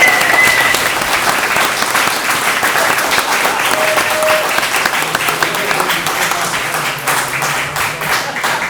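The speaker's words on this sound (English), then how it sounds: "I'd like to give Steve Ewart a round of applause" Audience applause at a grand opening event for a regional transfer center, steady dense clapping filling the whole stretch at a loud, even level with a faint crowd murmur underneath.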